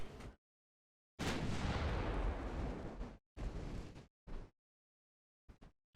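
Naval guns firing in the warship game Ultimate Admiral Dreadnoughts, with 4-inch guns in action: a sustained roaring salvo, then shorter booming bursts and a couple of faint distant pops, loud and free of talk.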